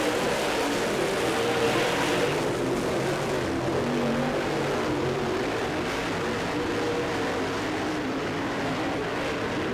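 Race cars roar through the final lap of a race as a steady, dense engine drone that holds a constant loud level for the whole stretch, with no clear voices above it.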